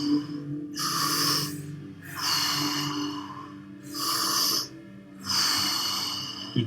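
Deep rhythmic breathing in a guided exercise, four long airy breaths drawn in and let out in a steady cycle, close and fairly quiet, with brief pauses between each.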